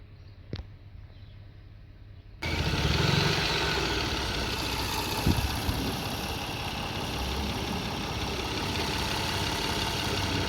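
Toyota Sienna (2004–2010 model) engine idling at slightly low RPM, starting abruptly after a near-silent moment with a single click, then a steady, close, even hum with no talking.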